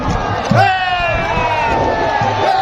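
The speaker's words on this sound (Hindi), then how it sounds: "इजहार अली खान के लिए शानदार तालियां" Spectators at the Shandur Polo Festival cheer a goal in the Chitral A vs Gilgit A match, a loud crowd roar mixed with whoops, while a commentator talks over it close to the microphone.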